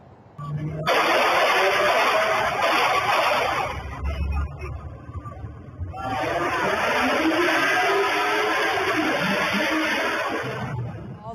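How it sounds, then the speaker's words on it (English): Loud car engines roaring and revving, two long sustained bursts separated by a brief dip, with faint crowd noise beneath. "And the car engines revving there"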